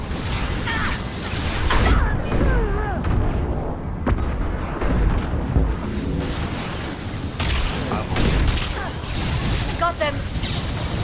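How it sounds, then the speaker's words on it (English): Flashbang grenade going off in the video game Mass Effect 2, a burst among dense combat noise, gunfire and explosions, with voices talking over the fight. "Watch out, flashbang!"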